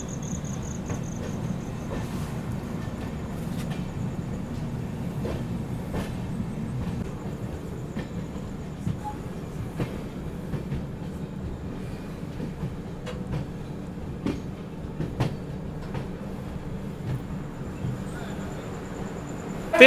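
Interior of the LTT Mumbai Banaras Superfast Express running on the line toward Prayagraj, a steady low rumble of the moving coach with scattered clicks and rattles from the track, faint insect chirps and occasional voices in the background.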